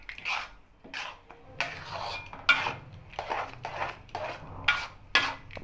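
A thickening sago laddu mixture stirred continuously in a pan, with bursts of spoon-on-metal scraping and clinks repeating every half second or so, close and fairly quiet, with short pauses between strokes.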